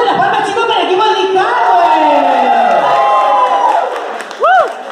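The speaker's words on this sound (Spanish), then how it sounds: "¡Ponle las palmas, chicos, para el equipo de Nick" A crowd at a nighttime electronic music team competition cheers and shouts for Nick Carla's team, loud, sustained whoops and voices rising together, with a sharp burst of shouting near the end.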